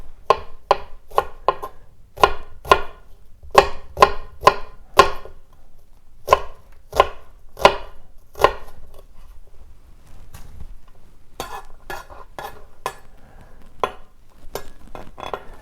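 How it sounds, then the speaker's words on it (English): A knife slices an onion on a cutting board in crisp, evenly spaced taps, first in a fast run, then a pause and a slower, softer scattered series, close up with no talking. "the onion becomes a little bit wobbly, so just turn it over and work comfortably and continue slicing, working your way towards that root"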